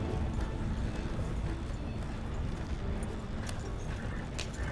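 Horses pull a wagon along a road in Red Dead Redemption 2, their hooves clip-clopping steadily under a dense, continuous rumble of rolling wheels at close range.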